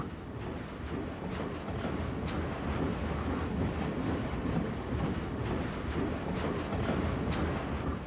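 A fast-moving train in a video game rumbles and rattles steadily, with rhythmic clickety-clack of wheels over the rails, loud and continuous for the whole stretch without talk.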